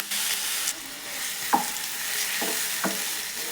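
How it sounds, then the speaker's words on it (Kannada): Chopped apple frying in ghee in a pan, a continuous close sizzling hiss broken by a few light knocks of a spoon stirring. "ಸ್ವಲ್ಪ ಚೆನ್ನಾಗಿ ಫ್ರೈ ಮಾಡ್ಕೊಳ್ಳೋಣ ಆಪಲನ್ನು"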